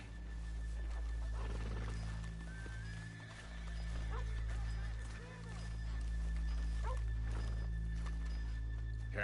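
Horses in the Red Dead Redemption 2 video game clop and shift near a town street, with soft hoof steps and a snort over a loud, steady low rumble of ambience.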